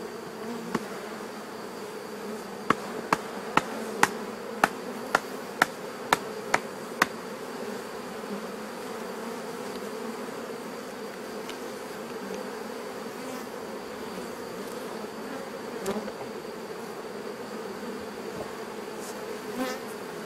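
A honeybee swarm that has left hive number six drones steadily around the beehive. The buzzing is dense and continuous, with a run of sharp clicks early on and no voices.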